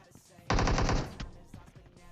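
A rapid burst of automatic gunfire in the PUBG video game, roughly half a second of fast, evenly spaced shots, loud and close, followed by a single trailing crack and quieter game ambience.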